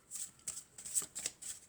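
Tarot cards are shuffled by hand in a few quick, soft riffling bursts, close and faint, with no voices.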